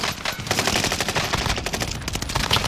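Video game firefight with near-continuous automatic gunfire, rapid loud bursts stacked on top of one another and hardly pausing, heard up close with no talking.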